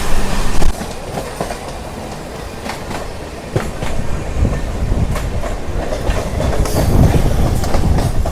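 A Secunderabad-Guntur Intercity SF Express train runs at speed, heard from aboard as a loud continuous rumble with rhythmic clickety-clack of wheels over rail joints and occasional faint squeals.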